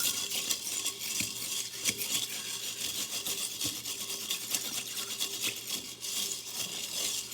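Ice water stirred in a cup with a thermometer during a freezing-curve lab: continuous faint clinking and rattling of ice against the cup, steady and close, with no voices.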